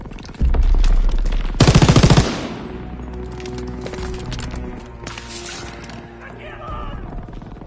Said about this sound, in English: MGs are still sweeping the beach!